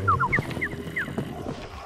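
Several short honking calls from a duck in a video game, quick descending squawks in a brief cluster and then spaced apart, loud and close over a busy game soundscape.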